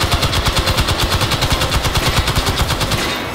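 Rapid automatic gunfire in the VR shooter H3VR, a continuous fast-paced string of loud, evenly spaced shots lasting about three seconds with no talking.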